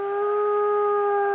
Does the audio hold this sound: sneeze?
no